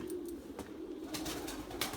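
An injured pigeon under treatment struggles to get free, giving a low soft cooing with faint scattered flutters and clicks, quiet and close.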